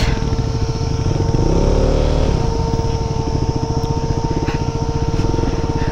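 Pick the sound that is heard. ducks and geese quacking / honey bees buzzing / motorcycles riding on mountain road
motorcycles riding on mountain road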